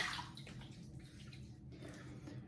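Water splashes and trickles from a sink bowl as a face is wetted before a wet shave with Proraso Green soap, a short run of close, soft splashing with no talk.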